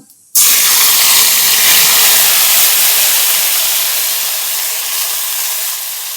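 A paste of ground mustard, chili, onion, ginger and garlic hits hot oil with a sudden loud sizzling hiss that continues steadily, fading slightly over several seconds.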